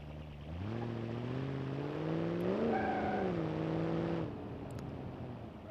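A virtual car with a supercharged motor on stock suspension revs up in BeamNG.drive ahead of a burnout, a steady droning engine note that rises in pitch midway, peaks, then falls and cuts off near the end, alone without talk.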